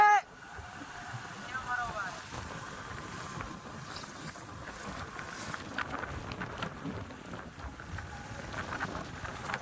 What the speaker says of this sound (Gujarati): પવન છે એટલે બહુ અવાજ નહીં આવે